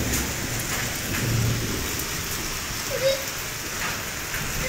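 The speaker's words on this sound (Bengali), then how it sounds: "এটা বজ্রপাতের শব্দ আপনারা শুনতে পেয়েছেন।" Steady rain hisses throughout, with a low rumble of thunder swelling briefly in the distance partway through.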